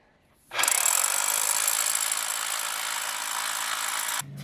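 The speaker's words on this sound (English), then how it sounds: "The drill is actually having a hard time getting into the rammed earth." A power drill starts abruptly and grinds steadily into a hard rammed earth wall for several seconds, loud and close, then cuts off.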